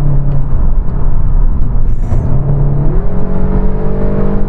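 A Seat Cupra Black Carbon with a 400 hp engine and DSG gearbox revs loud and close from the cabin, its engine and exhaust droning steadily and then climbing in pitch as it accelerates.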